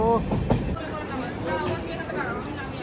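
A train pulls into Kalka station at the end of a Shimla trip, with a low rumble and rail clatter inside the carriage under steady voices and passenger chatter.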